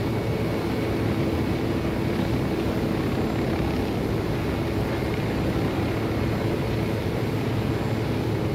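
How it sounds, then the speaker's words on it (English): A helicopter in the Ghost Recon video game flies steadily, its engine and rotor drone a continuous loud rumble that holds evenly throughout with no pauses. "Oh, I love having a helicopter."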